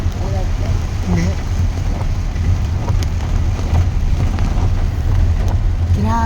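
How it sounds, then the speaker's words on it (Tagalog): Heavy rain pouring down in a dense, constant hiss with low rumbling wind and vehicle noise underneath, and people speaking briefly over it at the start and end. "Grabe, ang ulan."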